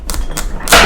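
A knife cuts the ends off a tough butternut squash in two or three sharp, close chopping thuds with brief scraping between them.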